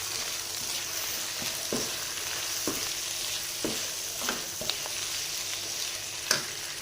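Boneless chicken roasts in a pan for stuffed tinda, giving a steady sizzle with light scraping stirs at regular intervals, close and moderately loud with no talking.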